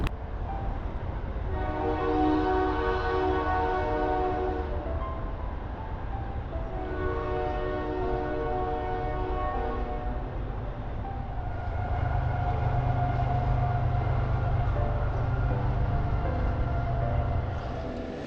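A train horn sounds in long, sustained blasts, pausing and repeating several times, with a steady rumble of the passing train beneath, in Amish country.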